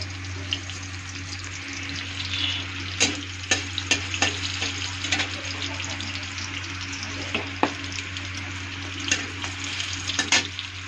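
Mustard seeds and two green chillies sizzle in hot oil for a tomato and mango chutney, giving a steady, moderately quiet frying hiss dotted with sharp pops and crackles throughout.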